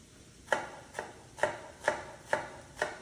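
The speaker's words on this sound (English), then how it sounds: "I'm dicing a little shallot here" A knife dices a small shallot on a cutting board with six crisp, evenly spaced chops about half a second apart. Each chop is a sharp, close tap with a short ring, and no one speaks.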